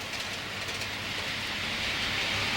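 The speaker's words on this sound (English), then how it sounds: "if I move it forward slowly, she's a lovely train" A model LMS Patriot locomotive runs slowly along its track, giving a steady close whirring rumble with a faint rolling rattle that stays even and continuous.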